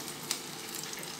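Green chillies fry in a pan with a faint, even hiss of hot oil and a single soft tap, brief and quiet.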